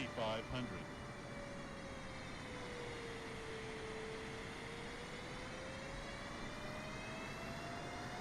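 Jet engine roar of a Boeing 747 in Microsoft Flight Simulator 2024, a steady, continuous drone with a slowly shifting whine, flying low, heard throughout over a constant broadband rush.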